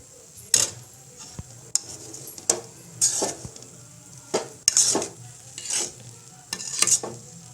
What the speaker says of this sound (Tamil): எடுத்து கிண்டி விட்டு மறுபடியும் மூடி போட்டு வைக்கணும்